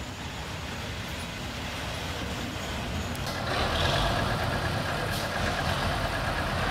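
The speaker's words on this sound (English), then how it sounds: "a very well-filled RAL diesel mechanical unit pulling a trailer car arrives at Borgo" A crowded RAL diesel mechanical railcar towing a trailer car pulls into Borgo station on Sicily's Circumetnea line, its engine rumbling steadily and growing slightly louder and nearer toward the end.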